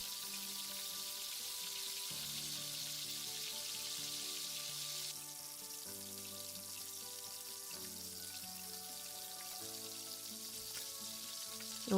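Nigerian native jollof rice, an oil rice with crayfish, sizzles and bubbles steadily in a pot, a continuous close frying hiss that holds even and unbroken throughout.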